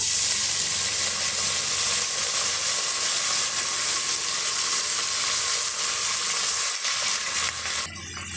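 Chopped onions and curry leaves sauté in oil in a pressure cooker, giving a steady, loud, close sizzle and hiss that runs the whole time with only slight shifts as they are stirred.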